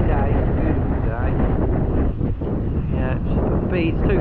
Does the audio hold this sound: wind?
yes